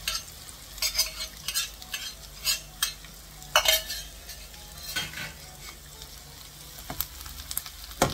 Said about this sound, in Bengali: আমাদের পেঁয়াজটা একটু হালকা ট্রান্সলুসেন্ট ভাজা হয়ে গেছে। আমরা এবার এটাতে আলুটা দিয়ে দেবো।